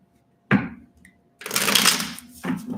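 Tarot cards shuffled by hand: a quick riffle burst, a short pause, then a longer rustling shuffle and another brief flick, close and clear with no talk.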